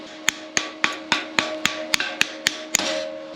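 Regular metallic taps strike a plasma-cut steel piece, about ten sharp ringing hits at an even pace, close and clear with a faint hum behind.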